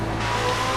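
A car cornering on the road, its engine holding a steady drone with faint tire noise, loud and continuous through the short moment.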